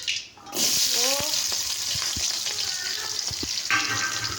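Small shallots drop into hot oil and fry with a loud, continuous close sizzle, broken by a few clattering stirs and a brief squeak near the start.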